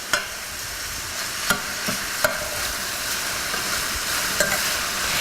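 Sausage browns in a frying pan, giving a steady close sizzle with occasional sharp clicks and scrapes of stirring, alone without any voices.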